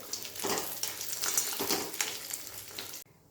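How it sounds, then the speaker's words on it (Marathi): Dry dates (kharik) frying in ghee in a wok give a dense, steady sizzle with crackling bursts and stirring, close and loud, cutting off abruptly at the end. "थोडी थोडी करून आपल्याला ही जी खारीक आहे ती अशी कडक करून घ्यायची आहे तुपामध्ये"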